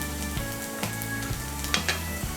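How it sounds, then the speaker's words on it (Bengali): Ginger and garlic paste fries in hot oil over browned onions, a dense, steady sizzle with a few faint scrapes of a spatula mixing it in, close and without voices. "আদা বাটা রসুন বাটাটাকে তেলের সঙ্গে ভালো করে মিশিয়ে নেব"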